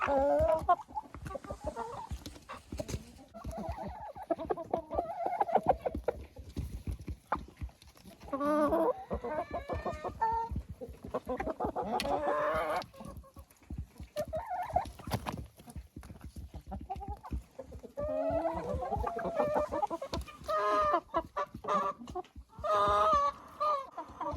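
Several chickens at a country dacha cluck and murmur steadily nearby while eating moldy bread, with soft pecking and scratching clicks throughout.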